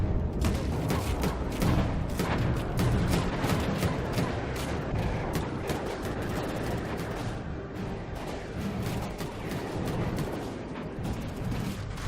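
Missiles and explosions in the naval combat game From the Depths: a dense, continuous barrage of booms and blasts, rapid overlapping detonations and impacts rumbling loudly without pause.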